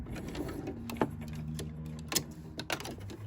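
A sewing machine runs a stretch stitch along the sleeve seam of a jogger, a quiet steady mechanical whir with light clicks and a few sharper taps close by.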